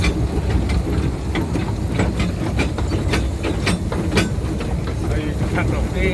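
A miniature steam train runs along the track with steady loud rumbling and rhythmic clickety-clack of the running gear, close by, with people talking over it.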